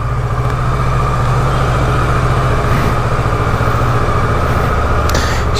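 A motorcycle engine running at a steady idle, loud and close with a continuous low rumble and even throb, no voices.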